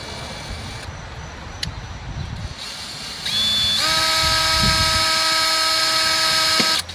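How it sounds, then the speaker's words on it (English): Power drill on a 1987 Ford F-150, with faint rustling and a short taps at first, then a loud steady high whine from the drill motor running continuously for several seconds before stopping. "We drilled right into it."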